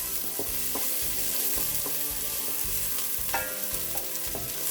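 A chopped medium onion frying in about half a cup of oil for khichuri, a constant crackling sizzle punctuated by rhythmic scraping stirs against the pan, close and steady with no speech.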